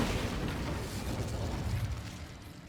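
Incendio fire spell cast in Hogwarts Legacy, a dense, roaring burst of flame with low rumbling bulk that holds steady for a few seconds before easing off slightly, loud and close with no voices.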